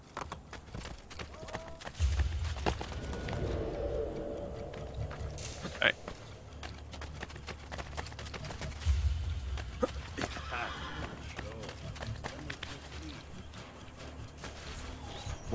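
Horse hooves clop along in a steady walking rhythm in Assassin's Creed: Brotherhood, fairly close, with background game noise and occasional clatter.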